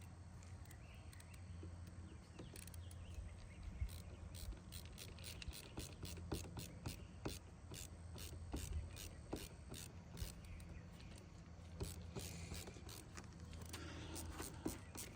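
A handheld screwdriver tightens a screw on a kayak net extension, giving quiet repeated ratcheting clicks in uneven bursts, close and faint.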